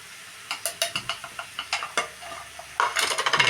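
A spoon scrapes and clinks around a pan of prawn curry with garam masala, close up, in a run of sharp taps of uneven rhythm, growing into a denser scraping flurry at the end.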